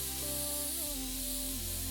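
A spray can blasting a computer clean in PC Building Simulator, a steady hiss running alone for about two seconds over a low game hum.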